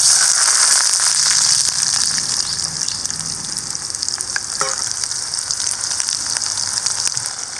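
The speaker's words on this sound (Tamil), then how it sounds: "கொஞ்சமாக கடுகு வந்து பொரிஞ்சிருச்சு. கட் பண்ணி வச்ச சின்ன வெங்காயம்," Mustard seeds splutter and small shallots fry in hot oil in a village kitchen, a loud steady sizzle with scattered pops throughout, no talking.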